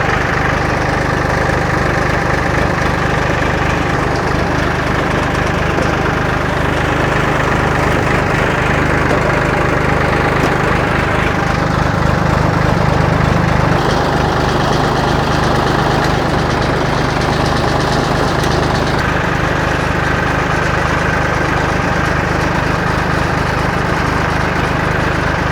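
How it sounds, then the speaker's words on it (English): A John Deere 820 diesel tractor idles steadily and loud at close range, its low engine drone running unbroken throughout with no talk. "So while this tractor runs for a minute"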